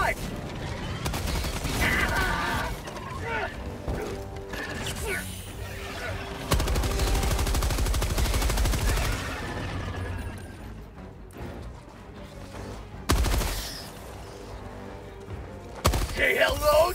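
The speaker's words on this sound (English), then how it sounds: "This machine gun might be better than the new one" Machine gun fire in Helldivers 2 comes in loud, close bursts of rapid shots with heavy impacts and mechanical clatter between them, broken by short pauses and a voice now and then.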